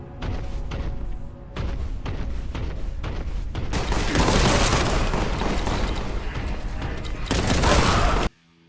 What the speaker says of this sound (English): to the very first shot from your bolter